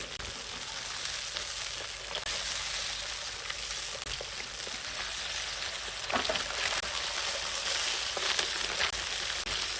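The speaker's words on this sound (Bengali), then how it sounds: "স্কুইড বেশিক্ষণ ফ্রাই করলে কিন্তু আপনার রাবারই হয়ে যায় যার কারণে হালকা একটু ফ্রাই করে তারপর তুলে নিচ্ছি" Squid pieces fry in hot oil with a steady, crackling sizzle that continues evenly throughout, close up and without any talking.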